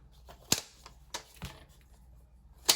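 Paper being cut down for a Franken paper journal page, heard as a few sharp, close snips spread irregularly across a quiet background.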